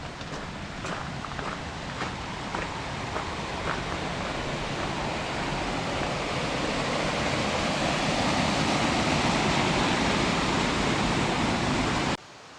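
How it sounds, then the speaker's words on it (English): A small waterfall in Torridon, Scotland, gives a steady, broad rush of falling water that holds an even level throughout, close by and continuous, with no voices over it. "Little waterfall."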